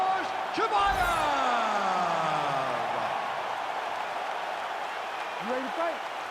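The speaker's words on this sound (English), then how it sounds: "you can hear the crowd response with everything that this man does" A crowd roars steadily in the arena of EA Sports UFC 5 during a middleweight fight, with a constant cheering wash under a voice speaking over it.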